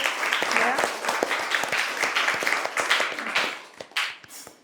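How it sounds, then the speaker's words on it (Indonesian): An audience at a teaching session bursts into applause, steady dense clapping lasting several seconds, fairly close, with a few voices mixed in before it tapers off. "Beri tepuk tangan untuk"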